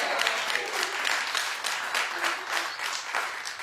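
A talk show studio audience claps steadily for several seconds, a dense, even wash of applause with no speech over it.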